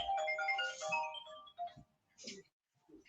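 A phone's ringtone plays as a melodic electronic ring at moderate volume, then short bits of speech follow as it stops.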